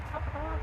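Soft, low clucking from a hen in a backyard chicken coop, heard close and briefly with no talking over it.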